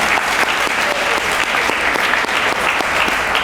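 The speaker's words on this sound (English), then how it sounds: "Let's give one more round of applause for the Gholsons." A ceremony audience gives one more round of applause for the Gholsons at the SBA 70th awards event, steady dense clapping filling the room without pause.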